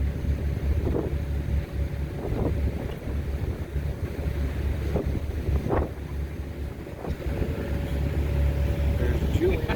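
A ferry crossing Plymouth Sound, with a steady low engine rumble and continuous wind buffeting the microphone, while a few brief louder gusts and knocks rise over the constant drone.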